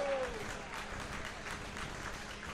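A wrestling crowd claps steadily in a distant arena, the rhythmic applause sitting low and faint throughout.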